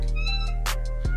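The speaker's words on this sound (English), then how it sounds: "With his meows in F sharp" A cat meows in short tonal cries, a few distinct meows in quick succession, close and clear with no talking over them.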